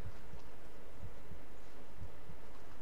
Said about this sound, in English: Why is there a heartbeat?